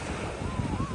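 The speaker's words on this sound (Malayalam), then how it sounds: "ഇതാ ഇവിടെ ഒരു സ്പീഡ് ബോട്ട് ഇറക്കുവാണ്." A speed boat being launched at Baina Beach in Goa, heard as a steady wash of surf and wind with a faint engine-like tone rising through the noise; a voice talks throughout.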